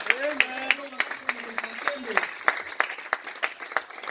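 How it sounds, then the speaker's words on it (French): Church congregation at a Sunday worship service clapping in scattered, uneven bursts, fairly close, mixed with voices and sung or called-out tones in the first half. "Acclamez très fort pour le roi de gloire."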